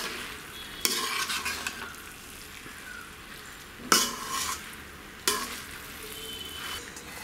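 Cooked rice for prawn dum biryani is gently mixed in a pot, with scraping and clattering stirring sounds and a few sharp utensil knocks against the metal.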